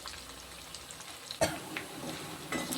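Taro pieces deep-fry in oil with a steady, soft bubbling sizzle, broken by a couple of brief sharper crackles or stirring knocks and no talking.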